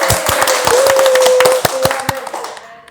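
A studio audience claps, a brief, loud and close patter of hand claps that thins out and fades within a few seconds, with a faint tone running beneath it.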